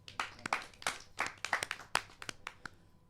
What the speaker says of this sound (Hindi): जोरदार तालियों से राजेंद्र कलकल जी।